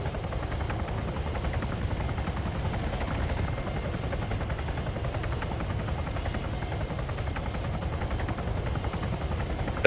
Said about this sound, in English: Uh-oh, this helicopter's upside down.